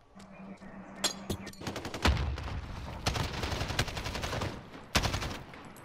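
AK rifle gunfire in a shooter video game, rapid bursts of sharp automatic shots crackling through the clip, with a louder close shot near the end.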